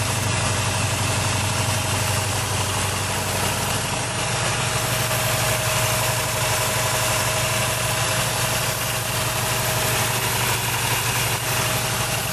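An old Chevy small block V8 in a van or truck runs steadily after a new cam install, a loud, close, continuous idle with an even throbbing rumble and mechanical clatter.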